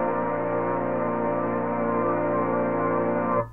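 An organ sent fully wet through a Valhalla Delay reverb becomes a smooth, washed-out sustained chord with a soft, dulled top end, holding evenly before it fades away.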